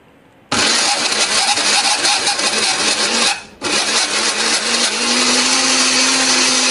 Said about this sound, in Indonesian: ini akan kita haluskan menggunakan blender, beri sedikit air ya supaya lebih gampang untuk menghaluskannya